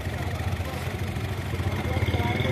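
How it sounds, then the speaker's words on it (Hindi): A 2022 Honda City fitted with an HHO kit idles steadily, its low, even engine hum running continuously nearby while a voice talks over it. "ये इंजन गाड़ी इस वक्त स्टार्ट है"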